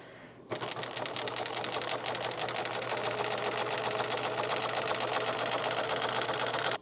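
A sewing machine stitches quilt scraps in one continuous rapid run, a close, steady mechanical whirr and needle rattle that starts abruptly and holds even to the end, with no talking.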